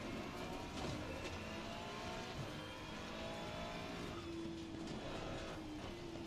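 Race car engines roar loudly in a racing game while chasing a BMW ahead, a sustained whining drone with shifting pitch as the cars accelerate, close and continuous throughout.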